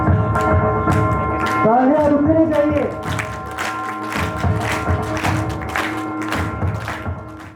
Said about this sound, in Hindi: कुमार जी धोखा और उनके कार्यकारिणी समिति का श्रोताओं की तालियों की गूंज के बीच अधिष्ठापन संपन्न किया।